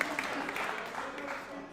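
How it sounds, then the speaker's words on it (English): Faint, steady audience applause at a school football spotlight event, a soft wash of clapping heard from a distance, with voices mixed in. "So let's clap it up for JJ being raised right."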